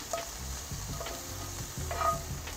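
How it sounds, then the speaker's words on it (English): Brussels sprouts sizzle in a pan on a Weber kettle grill while a spoon stirs them, giving a few scraping strokes over a steady, close frying hiss, with no one talking. "we are going to need a spoon to stir this around a little bit"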